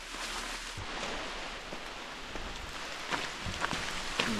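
Steady rain falls on a forest trail during a backpacking hike in a rainstorm near a creek, a soft continuous patter with a few sharper drops landing close by, heard alone without talk.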